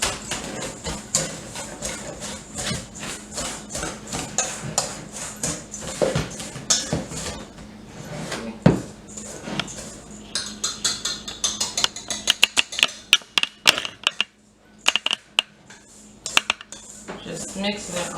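Dry rub spices for chicken and ribs, including no-salt seasoning, get mixed in a bowl: a rapid run of clinking, scraping utensil strokes against the dish, close and busy, thinning into scattered taps near the end.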